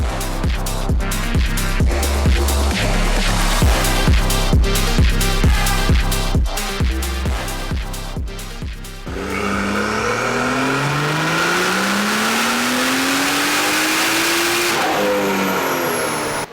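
A rear-wheel-drive car with port injection runs hard on a dyno, its loud engine revving up through several gears with clear shift breaks, then pulling in one long rising sweep before cutting off, close and steady with no talk.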